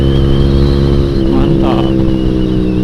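Motorcycle fitted with a 3tech Ronin Hanzo exhaust, out on an early-morning group ride: a loud, steady droning engine note close by, throttle held open with slight rises, wind noise mixed in.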